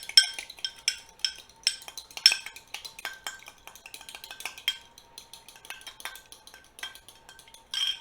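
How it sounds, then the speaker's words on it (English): Egg and a tablespoon of milk whisked together in a bowl for a blueberry pie glaze, heard as quick, irregular clinking taps of a whisk against the dish, fairly close and alone. "1 egg and a tablespoon of milk mixed together. I just whisk it."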